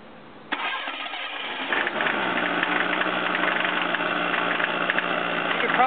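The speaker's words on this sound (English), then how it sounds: "You can probably hear the rod knock coming from the driver's side" A car engine cranks and catches, then settles into a steady rough idle with a faint repetitive knock suspected to be rod knock on the driver's side, close and loud.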